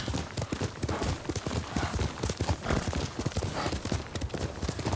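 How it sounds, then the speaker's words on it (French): Horse hooves galloping in the video game Ghost of Tsushima: rapid, close, rhythmic clip-clop beats running steadily through the clip with no pause. "j'ai l'impression que cet abruti de cheval, il continue"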